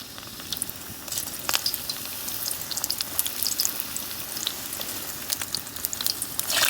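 Momos frying in a pan at a night campsite, a steady crackling sizzle with sharp pops and spits that thicken and grow louder toward the end, close by, with no one talking.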